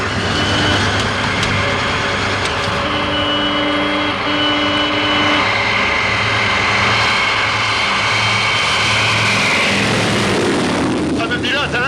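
Aircraft engines throttling up for a go-around in a film scene, a loud sustained roar that swells and rises in pitch, with talk mixed in early on before the sound trails off at the end.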